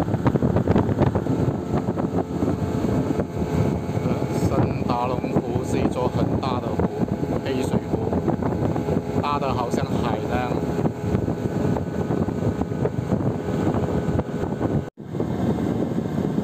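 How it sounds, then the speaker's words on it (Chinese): A speedboat motoring across a large freshwater lake in the Sentarum wetlands, giving a steady, continuous engine drone with wind rush throughout and a voice talking over it. "快艇开了约20分钟才开出大湖水域"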